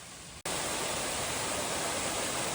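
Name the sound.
waterfall on the Appalachian Trail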